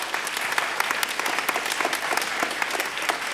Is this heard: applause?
yes